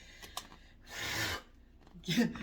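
Brief riffling and rasping bursts of cards being shuffled, a short flutter followed by a longer whirring riffle and a final shuffle.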